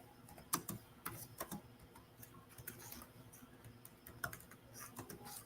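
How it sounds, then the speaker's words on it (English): Someone types on a computer keyboard with one hand, producing quiet, irregular clicks and taps in short bursts, close by and without talk. "It's very hard to type with one hand."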